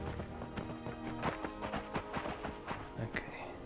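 A horse trots in the fantasy video game Skyrim VR, its hooves clip-clopping in a steady, fairly close rhythm while someone talks over it now and then.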